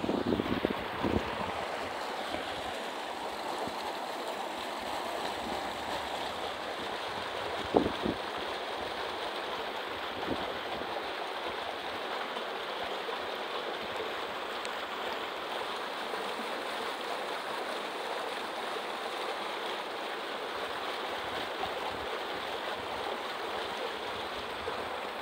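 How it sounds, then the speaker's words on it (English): Mountain waterfall pouring in a continuous broadband rush, steady and moderately distant, with a few faint knocks and no talk. "Pretty cool, the waterfall."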